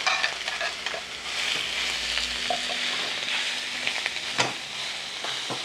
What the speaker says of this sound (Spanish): tengo una cacerola con aceite para dorar el chorizo